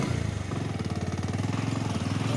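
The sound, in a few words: motorcycle passing on road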